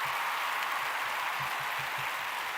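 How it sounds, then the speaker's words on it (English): Faint, steady studio audience applause on a live television talk show, a continuous wash of clapping heard from a distance at low level. "waiting on the applause to stop"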